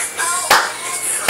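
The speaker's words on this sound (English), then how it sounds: "Clap your hands." Two sharp hand claps ring out about a second apart over a steady bed of upbeat music, loud and close.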